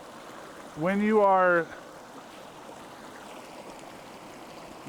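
A short, forceful spray of water, about a second long, bursts out as a Sawyer Mini filter is backwashed in reverse with a syringe. Someone talks over it, then a quieter wet hiss lingers.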